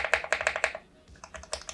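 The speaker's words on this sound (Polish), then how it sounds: "Tak klika switch z nakładką" Switches with caps on a KiiBOOM Phantom81 Lite mechanical keyboard click in quick repeated bursts, sharp close taps in an uneven rhythm with a short pause in the middle.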